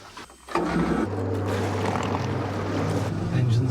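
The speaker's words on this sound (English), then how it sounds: "Engines on." Submarine engines start up on a first dive, a low steady hum and rumble rising abruptly after a quiet moment and holding loud and close, with faint voices in the background.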